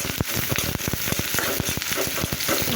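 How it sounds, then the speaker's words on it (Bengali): Sliced onions and green chillies fry in hot oil in a pan, giving loud, dense crackling and spitting with rapid sharp pops, close and continuous without any talk. "এগুলোকে আমি একটু লাল লাল করে ভেজে নেব"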